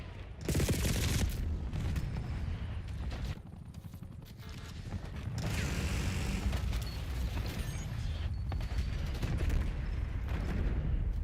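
Flashbangs and explosions in a video game firefight, with loud booms and blasts, bursts of gunfire and a continuous rumbling battle din.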